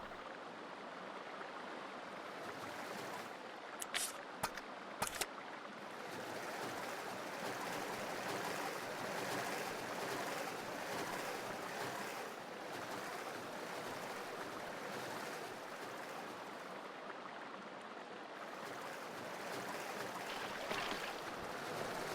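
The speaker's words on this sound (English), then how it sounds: "Sewage water." Steady flowing sewage water in a sewer level of Resident Evil Zero, a faint, continuous rushing wash with a few brief clicks early on.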